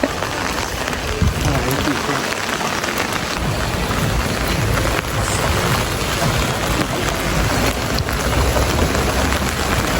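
Heavy rain pours down in Germany in a dense, loud, continuous roar with splashing drops on surfaces that never lets up. No voices break through it.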